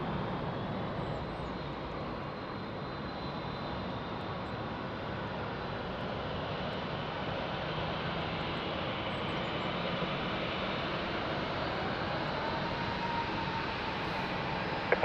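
Steady jet engine roar at Lisbon Airport fills the whole stretch, a broad continuous rumble that holds nearly constant loudness, as of airliners idling or taxiing near the runway.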